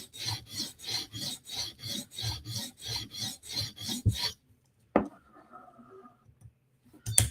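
A Spyderco knife blade being sharpened, rhythmic rasping strokes repeating steadily for about four seconds, then a sharp click and a few faint scrapes before another click at the end.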